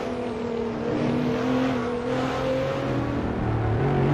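Race cars roar around the Red Bull Ring in Assetto Corsa, with close, loud engine drones whose pitch rises and falls through gear changes and a faint tire squeal.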